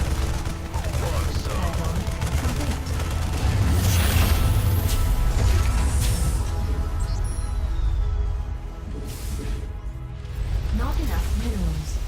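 StarCraft units firing at an Overlord, a steady barrage of rapid gunfire bursts and booms in the game, with someone talking over the shooting.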